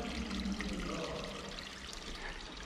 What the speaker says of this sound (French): Même une petite cascade, c'est sympa.